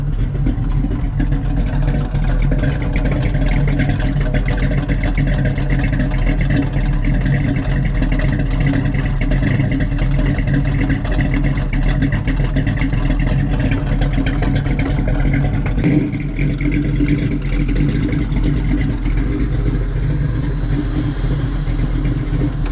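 A 1951 Henry J rat rod cruises steadily down the road, its engine droning loud and close from inside the car with a constant rumble and little change in pitch.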